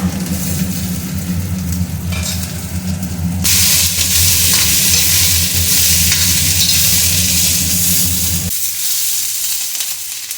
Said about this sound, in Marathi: मिरच्या चांगल्या भाजून घेते